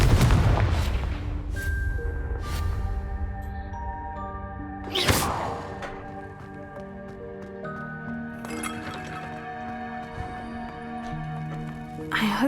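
Spell blasts from the video game Hogwarts Legacy, including the Confringo blasting curse, burst out as sharp booming cracks with glassy clinks, set over sustained musical tones, with a loud hit near the middle.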